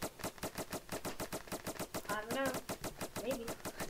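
Foam guns firing in the Roblox game Foam Frenzy, a fast regular string of sharp, close shots that repeats throughout, with brief tonal game effects layered in near the end.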